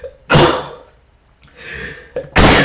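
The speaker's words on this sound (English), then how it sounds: "I gotta sneeze." A single loud, close sneeze from a man, with a brief intake before it and a second burst of breath following, heard alone without talk.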